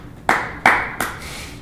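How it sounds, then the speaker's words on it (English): Three sharp, evenly spaced claps ring out up close, each with a short echoing decay, offered as applause for a girls' track team during a school news broadcast. "why don't we just give the track girls a round of applause?"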